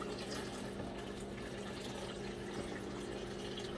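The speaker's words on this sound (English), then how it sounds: "I got to get some more water, filtered water." Filtered water running steadily to fill a jar for cold-pressed ginger tea extract, a constant close rushing flow with an underlying pump-like hum, with no talking.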